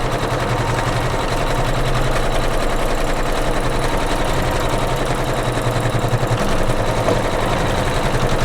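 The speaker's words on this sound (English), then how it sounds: "I'm gonna hit start, and now I'm gonna tack that down in place" An embroidery sewing machine runs steadily as it tacks down green fabric for a watermelon quilt block, a continuous close mechanical whir with rapid stitching rhythm and no talk.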